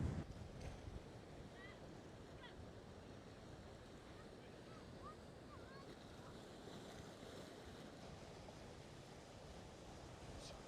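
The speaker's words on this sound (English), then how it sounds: "The wind is making the lens vibrate." Strong wind blowing on a coast by the water, a constant loud rush and buffeting against the microphone, with faint surf beneath.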